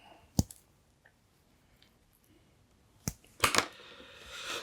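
Small scissors trim the edges of a 1:12 scale pumpkin lantern craft piece, giving a few isolated crisp snips with quiet pauses, then a cluster of close cutting clicks and a soft rustle of handling.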